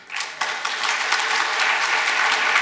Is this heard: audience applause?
yes